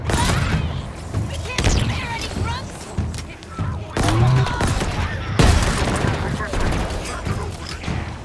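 Gunfire in Halo Infinite, repeated loud bursts and booming shots with crackling impacts close by in a busy firefight, with voices heard under the shooting.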